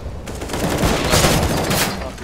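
AK rifle firing in the Counter-Strike: Global Offensive video game, a loud, rapid run of close gunshots rattling in quick bursts for about two seconds, with no voices over them.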